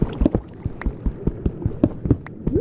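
Water leaking and running in a survival video game, heard as a close, irregular series of wet drips and splashy plinks without talk.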